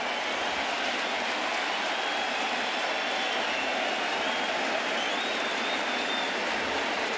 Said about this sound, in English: he's going to get quite the ovation from this sellout crowd